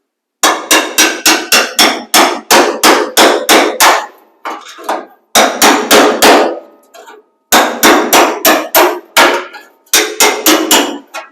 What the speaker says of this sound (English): It was a Craftsman chisel that I found at a yard sale. This is great for splitting these panels.